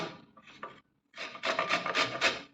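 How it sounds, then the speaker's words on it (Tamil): Raw mango scraped across a carrot grater in a home kitchen, giving quick raspy strokes, a short burst first, then a pause, then a denser run of rubbing, close and moderately loud. "இதை கேரட் துருவுறதுல சீவிக்கலாம்"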